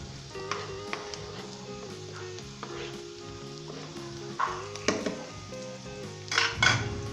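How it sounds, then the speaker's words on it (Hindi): Golden-browned onions and ginger sizzle steadily in a pan while spices and salt are stirred in, a spoon scraping and clinking against the metal now and then, close up and with no talk. "फ़ौरन इसे मिक्स कर लें।"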